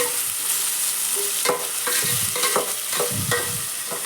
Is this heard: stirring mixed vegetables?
yes